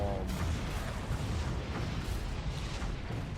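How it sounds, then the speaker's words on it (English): A continuous deep rumble of booming explosions in a video game, low and heavy, rolling on without clear gaps between impacts. "I heard several booms, not one gigantic boom"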